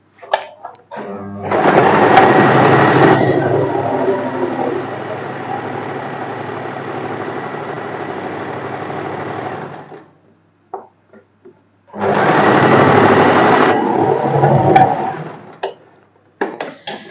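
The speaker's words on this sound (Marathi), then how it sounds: "सेम दुसरा भाग स्टिच करून घेते" A sewing machine stitches a boatneck blouse with puff sleeves in two long steady runs, a near, loud whirring drone of about eight seconds, a pause with a few small clicks, then a second burst.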